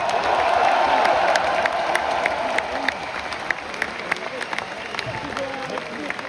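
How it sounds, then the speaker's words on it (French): A concert crowd applauds the evening's organisers at a Paris metal show, a dense, sustained wash of clapping with some cheering that starts loud and gradually thins, individual claps popping out near the end. "qu'on applaudisse bien fort"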